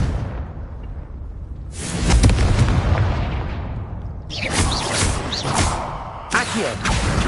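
Confringo blasting spell in the video game Hogwarts Legacy, a loud booming explosion that bursts out partway through and rumbles on, followed by further crackling blasts and magical whooshes.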